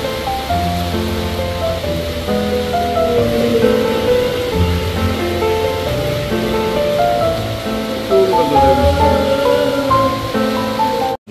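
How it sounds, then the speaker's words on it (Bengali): Heavy monsoon rain pouring down hard, a loud continuous roaring wash of water that holds steady for the whole stretch with no talking over it. "প্রচন্ড জোরে বৃষ্টি নেমে গেল।"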